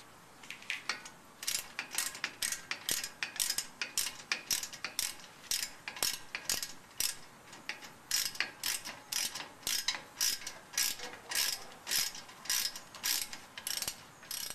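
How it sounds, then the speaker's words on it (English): A hand ratchet loosens the caliper bolts on a car's brake during a brake pad change, making a fast, steady run of close, crisp clicking strokes with short pauses between bursts. "Now let's take off the bolts."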